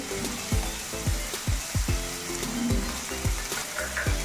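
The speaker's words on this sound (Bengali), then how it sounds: "গোটা গরম মশলা আর তেজপাতা দিয়েছি আর এবার পেঁয়াজটা দিয়ে দিই দিয়ে দিলাম" Chopped onion goes into hot oil with whole garam masala and bay leaves, sizzling loudly and steadily while a spoon scrapes and stirs the pan in a regular series of knocks.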